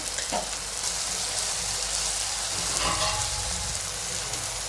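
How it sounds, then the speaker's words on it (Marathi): Finely grated coconut roasting in a hot pan, a steady dense sizzle and crackle like rain, close and even, with a faint stir or two and no talking. "1 चमचा असं बारीक खोबरं किसून घेतलंय बघा, ते पण टाकून भाजूया।"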